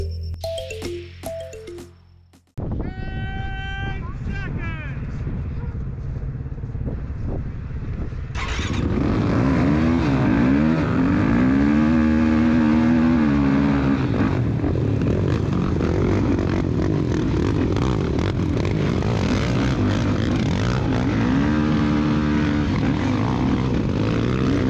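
Engines of youth ATV four-wheelers racing at CJ's Raceway in Newburg, West Virginia, in snow, ice and mud: after a brief quiet start, a dense, loud roar of multiple revving engines builds and holds steady, with rising and falling pitch as machines accelerate nearby.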